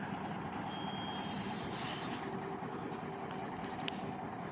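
A loaded MAN TGS 6x6 log truck rumbles steadily at a fair distance, its broad engine drone constant with faint intermittent beeps and a brief hiss near the end, and no voices.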